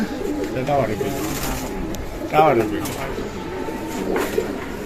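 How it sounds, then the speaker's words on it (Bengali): Soft, repeated pigeon coos come through amid nearby voices talking, with a louder burst of cooing partway through. "এই যে সাত নাম্বার কৌতুর নামতেছে"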